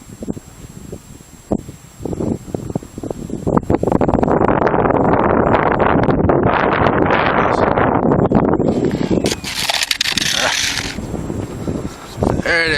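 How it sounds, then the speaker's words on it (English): Gusty wind buffets the microphone at an RC plane flying field where a Multiplex Blizzard model is being flown, a loud, sustained rushing roar that swells and lingers with brief breaks. "A little windy today, but that's okay for the blizzard."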